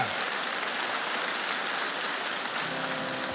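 A theatre audience at a Liga Smikhu comedy show greets a comedy team with dense, steady applause that rolls on like heavy rain for the whole stretch, with a faint tone creeping in near the end.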